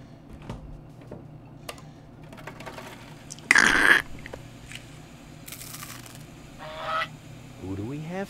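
A platypus in the Chaos on Deponia video game lets out one loud, harsh, honking squawk midway through, framed by quieter clicks, thumps and faint background tones.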